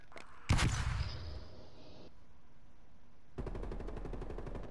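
Gunfire in the Call of Duty Black Ops Cold War video game: a loud single blast and its decaying echo, then after a lull a rapid automatic burst of evenly spaced shots.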